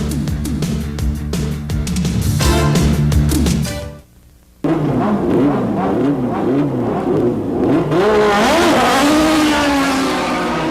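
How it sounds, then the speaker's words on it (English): Toyota Atlantic Championship race cars with 16-valve double overhead cam engines roar past on a reconnaissance lap at the 1990 Toronto street race, loud high revs rising and falling, a brief gap, then more cars sweeping by with Doppler shifts. "That's the sound of the 16-valve double overhead cam Toyota Atlantic Championship racing engine"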